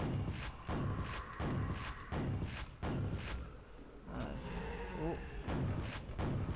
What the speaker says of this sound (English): Shooting grenades up the stairs and he's dying from it